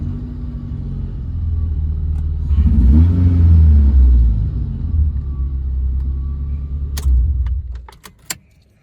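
A Mitsubishi Lancer engine idles while warming up, a steady low rumble close by that swells slightly midway, then cuts off as the engine is switched off, followed by a few sharp clicks.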